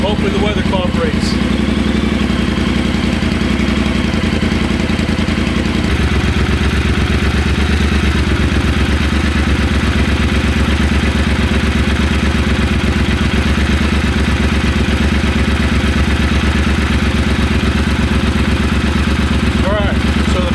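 A motorcycle engine idles steadily while warming up toward 190 degrees, a constant close mechanical drone that shifts slightly partway through and then holds evenly to the end.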